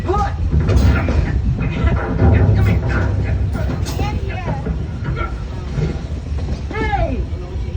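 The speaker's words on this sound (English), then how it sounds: "It's a train." A Walt Disney Magic Kingdom train ride rattles and clanks steadily, with mechanical ratcheting running underneath animated character voices and music from the ride's soundtrack throughout.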